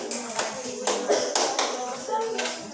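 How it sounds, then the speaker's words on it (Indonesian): A classroom of students claps for a presenting group, a few loose bursts of hand claps and taps rising and falling over several seconds, with faint voices beneath. "tepuk tangan untuk kelompok 3"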